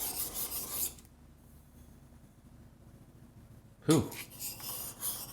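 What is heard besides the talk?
sharpening the back of a block plane iron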